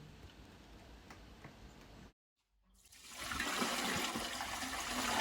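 Water gushes and splashes steadily over a pig's head cut into four pieces for soaking, after a brief silence, following a quieter run of flowing water.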